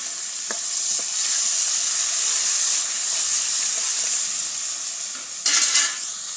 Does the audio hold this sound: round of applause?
no